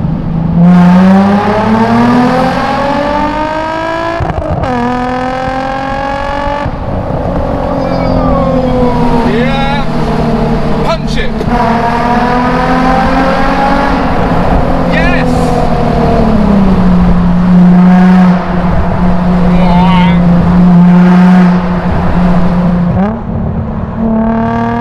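Nissan 350Z engine revving hard inside a tunnel, loud reverberant exhaust wail sweeping up and down through several throttle blips and gear changes, close and sustained throughout.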